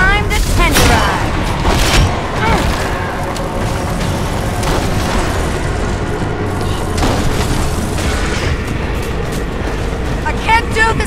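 Gunfire in Evil Dead The Game, loud booming shots and bursts over constant dense action noise, with game voices speaking over the din.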